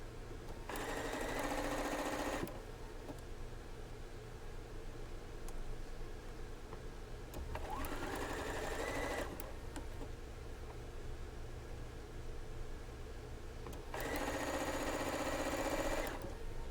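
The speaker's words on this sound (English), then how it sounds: "now we're ready to sew these two pieces together" A sewing machine stitches quilt unit pieces together for an Alaska block-of-the-month quilt, running in three distinct bursts of steady, close mechanical whirring separated by quiet pauses.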